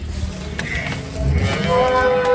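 A young bull lets out a low, drawn-out moo, close by, with faint background noise.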